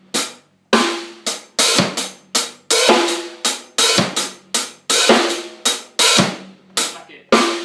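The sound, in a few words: dubstep drum beat with hi-hat lifted before bass and snare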